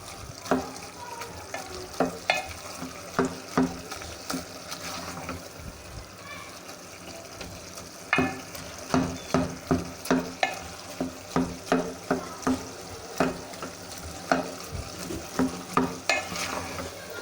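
Potato and cauliflower mashed together with masala fry in a pan, a low sizzle beneath repeated sharp spatula knocks and scrapes that come in rhythmic bursts, close and fairly loud, with no clear speech.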